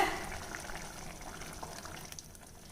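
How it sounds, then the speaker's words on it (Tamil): A little water is poured into a minced meat gravy cooking in a pan, a soft continuous pouring and bubbling that starts with a brief louder splash and then fades, faint and alone. "கொஞ்சமாக தண்ணி விட்டுக்கலாம்"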